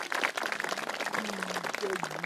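At a concert by a choir, an audience gives the parish priest a warm round of applause, a steady clatter of clapping with a voice briefly heard over it.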